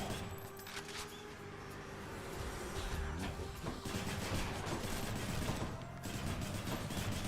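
Rapid gunfire from the player's weapon in the Hades video game, a dense, continuous rattle of shots mixed with combat effects, fairly quiet and steady throughout, with no talking.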